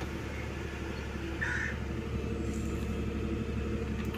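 Steady low engine rumble of an idling Datsun Redi-GO heard from inside the car, continuous and fairly loud, with a faint mechanical whine over it and no talking.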